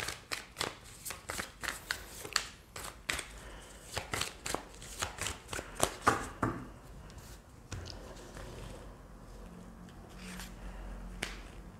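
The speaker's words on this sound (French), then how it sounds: "Je vais prendre quelques cartes de l'oracle de la Triade avant de continuer avec l'oracle de Mademoiselle G." Oracle cards shuffled by hand in a close, rapid series of crisp flicks and snaps, then easing into softer sliding and rustling of the deck with a faint low hum underneath.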